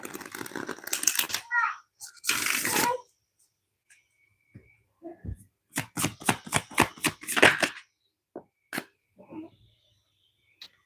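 Moonology oracle cards are shuffled in short bursts, a rapid run of crisp riffling snaps in the middle, with brief talk and quiet gaps around them.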